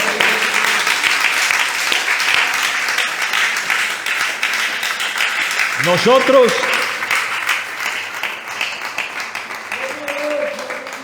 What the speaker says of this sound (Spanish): Denle ese aplauso mejor al Señor